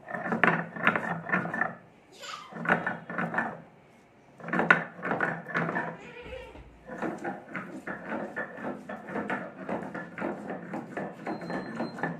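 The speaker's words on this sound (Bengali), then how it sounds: "এখন আমি আদাটা বেটে নিচ্ছি।" Ginger is ground into paste on a grinding stone in a run of rhythmic scraping strokes, close and steady, pausing briefly twice before the rubbing resumes at an even pace.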